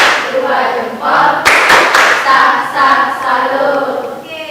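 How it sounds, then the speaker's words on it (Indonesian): A classroom group claps hands together in uneven, overlapping rhythms with a few sharp thuds, while voices chatter and call out alongside the clapping. "kasih aplaus dulu. Tepuk tangan."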